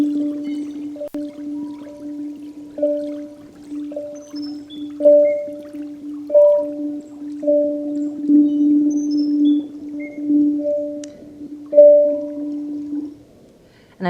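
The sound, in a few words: tabla Indian drum recording with birds singing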